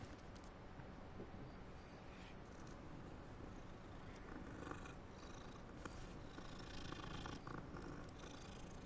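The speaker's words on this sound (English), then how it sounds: "Ooh, kitty cat" A cat purrs in the video game Hogwarts Legacy, a low, continuous rumbling that runs steadily for several seconds, soft and close beneath a faint game ambience.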